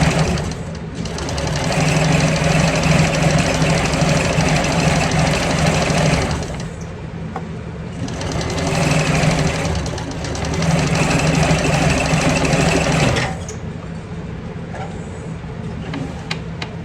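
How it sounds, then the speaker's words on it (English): A sewing machine top-stitches a handbag in long continuous runs of steady, rapid whirring, pausing briefly between stretches, close and loud. "I'm gonna run an extra stitch right down this top here."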